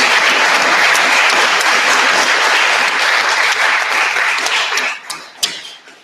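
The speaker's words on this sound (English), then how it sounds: "I want to give like the biggest round of applause to the crowdfunders." A conference audience claps in a full, dense round of applause that holds steady, then thins out into a few scattered last claps and fades.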